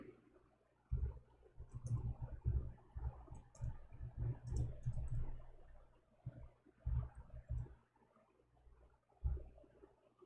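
Computer keyboard typing, a rapid run of soft clicks in bursts with short pauses, close and fairly quiet, no voices.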